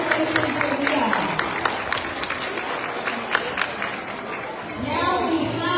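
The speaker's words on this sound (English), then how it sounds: "Let's give her another round of applause." A school assembly audience gives a student a round of applause: dense, sustained clapping from a crowd with some cheering and chatter mixed in, easing off toward the end.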